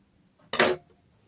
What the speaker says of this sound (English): I'm just going to cut strips